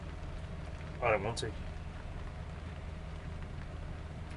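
Heavy rain falls outside a shed as a steady, even hiss that runs through the whole stretch, with a brief voice speaking over it near the start.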